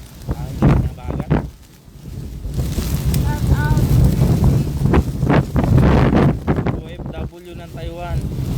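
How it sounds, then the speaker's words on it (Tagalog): Strong wind gusting across an island buffets the microphone in a steady low roar, with voices talking over it in between. "ayan, malakas na yung hangin."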